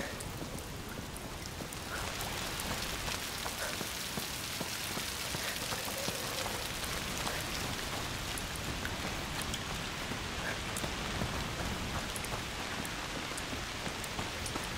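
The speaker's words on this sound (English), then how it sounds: "Foul rain." Heavy rain falls steadily in the video game A Plague Tale: Requiem, a dense, even hiss of drops hitting surfaces that swells louder after the first couple of seconds and continues without pause.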